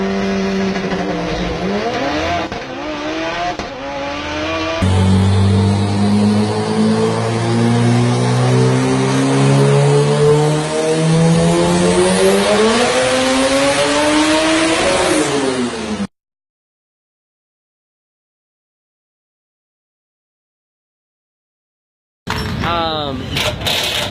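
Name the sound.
1400HP Mitsubishi Evo 8 drag car launching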